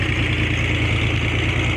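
The midlife engine of a 1964 Corvair Monza convertible idles smoothly and evenly, a close, steady mid-low hum with no voices over it.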